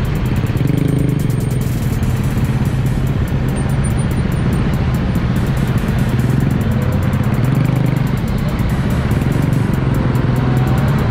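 Continuous roar of motorcycle engines passing on a busy road in a dedicated motorcycle lane, a dense steady traffic drone with no talking.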